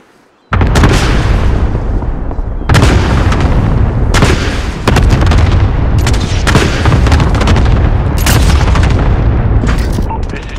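Air strike bombs exploding in Call of Duty: Modern Warfare, a run of loud, heavy booming blasts and rumbling detonations that follow one another almost continuously for about ten seconds.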